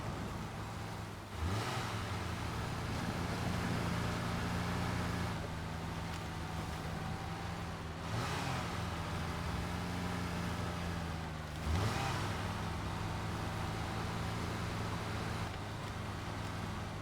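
A Hyundai Elantra drives in the Snowrunner video game, its engine a steady, loud, droning hum with layered tones. The pitch sweeps briefly around three moments, like shifts or surges, with no voices over it.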